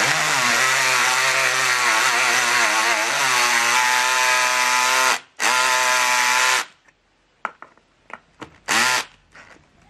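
Yukido 13mm 36V cordless brushless drill drives a screw, a loud steady high whine that runs for several seconds, cuts out briefly, resumes, then stops, followed by a few short bursts.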